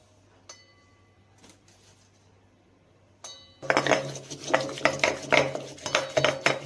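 Curd and gram flour are whisked together in a bowl for kadhi, starting with a few light clinks, then turning into rapid, close, rhythmic scraping and tapping of a utensil against the bowl.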